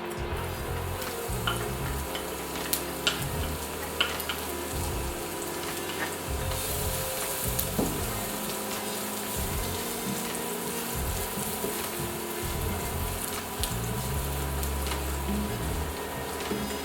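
Garlic fries in hot oil, a steady close sizzle and crackle running throughout with occasional small pops, no talking.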